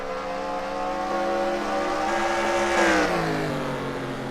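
Stock race cars, including a Hudson Hornet, at nearly full throttle in a racing game at Hamburg: a steady droning chorus of engines with rising harmonic pitch as they pass, continuous and moderately loud.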